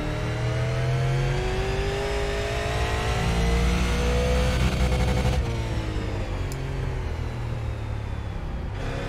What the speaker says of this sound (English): I'm just flat throttling it off the corner, trying to get as much speed